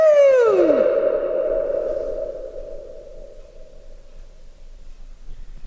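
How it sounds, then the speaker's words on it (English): A shout with a clear echo at the bottom of a deep, enclosed rocky place: a brief rising whoop opens, then a long reverberant tail hangs and slowly fades over several seconds, loud at first and dying away. "Man, I haven't heard an echo like that in a while."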